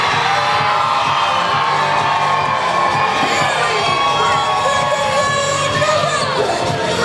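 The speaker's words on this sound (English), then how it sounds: "You can't beat a crowd reaction like that." A wrestling crowd in New Brunswick roars for a fan-favorite wrestler's entrance, a continuous loud wall of cheering with high whoops and shouts rising through it.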